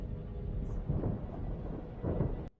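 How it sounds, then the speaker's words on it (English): A thunderstorm from a Harry Potter film, with deep rolling thunder rumbling in several low swells over steady rain, heard fairly loud before an abrupt cut. "It's called a storm."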